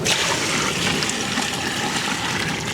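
Water pours steadily and loudly into a large pot of seeraga samba rice for Dindigul Thalappakatti-style chicken biryani, a continuous rushing splash with no break throughout.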